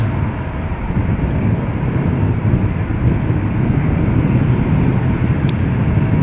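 A Boeing 787-10 departing Amsterdam Schiphol, its jet engines roaring loud and steady throughout as a broad unbroken rumble.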